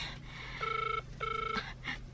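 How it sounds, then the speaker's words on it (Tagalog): A cellphone rings with a tonal electronic ringtone, two sustained ring bursts close and clear, then a short beep as it stops, with no voices. "agriring ti cellphone na"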